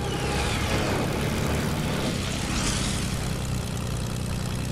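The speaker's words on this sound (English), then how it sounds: "there's a plane right there" Steady propeller-plane engine drone in a multiplayer video game, a continuous loud broadband roar with low rumble holding at even volume throughout, no talk over it.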